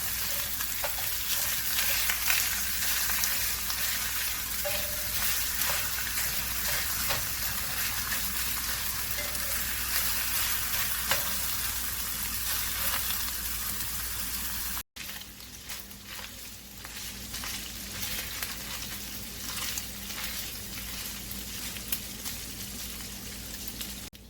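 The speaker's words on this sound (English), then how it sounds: "We're going to break this up and brown it." Sausage sizzles steadily in a pan as it is broken up and browned, a dense, continuous frying hiss with occasional scrapes, close and fairly loud throughout with no talking.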